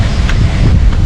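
Strong wind buffeting the microphone during an evening outdoor run, a loud, continuous low roar with gusty rumbling and no voices.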